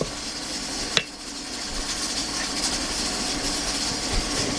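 A small kitchen blender blending beer mustard whirs steadily, with a single sharp click near the start and no voices.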